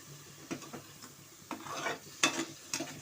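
Prawn biryani masala with curd being stirred in a pot, with a few soft scrapes and wet clinks of a spoon against the metal, close up and moderately quiet, with no talking.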